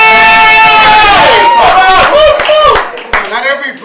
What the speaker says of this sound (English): Can I get a round of applause for that?